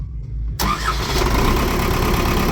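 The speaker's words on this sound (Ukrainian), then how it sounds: "А тепер покажи, як заводиться апарат" A farm machine's engine, readied for ploughing, cranks and catches abruptly after a half-second of quiet, then settles into a loud, steady close-up idle rumble.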